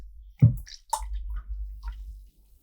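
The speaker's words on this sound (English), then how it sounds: "Open the beer, pour the beer using this way." Beer poured from a bottle into a glass gurgles and splashes briefly at close range, then settles into a faint trickle.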